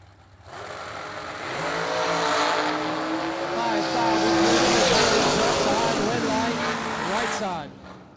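A 2022 American Dragster fires up from quiet and holds a loud, high engine roar that swells and wavers in pitch before it cuts off abruptly near the end.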